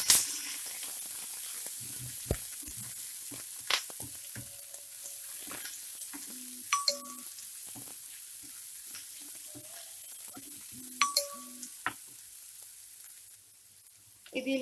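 Two chopped onions frying in oil in a pan for a bhindi masala, a steady soft sizzle with faint stirring clinks and scrapes throughout, fairly quiet and with no voices.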